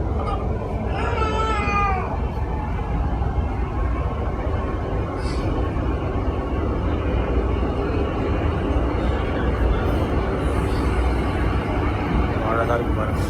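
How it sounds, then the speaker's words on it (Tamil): An MRTS suburban train pulls away and runs along the track, giving a steady loud rumble with brief high wheel squeals near the start and end, while people talk over it. "ட்ரெயின் கிளம்பிடுச்சு."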